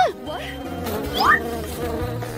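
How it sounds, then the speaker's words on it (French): Bees buzzing around a kitchen during a home honey jelly cooking challenge, a steady insect drone with rising and falling whine close by, no talk. "il y a tellement des abeilles"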